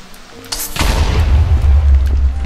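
A Minecraft explosion bursts with a sharp crack followed by a heavy, rumbling boom that lingers loudly to the end, with no voices over it.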